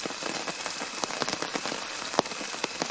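Steady rain patters densely on surfaces during a spring thunderstorm at a Florida hammock campsite, a close, continuous hiss with scattered sharper drop impacts throughout.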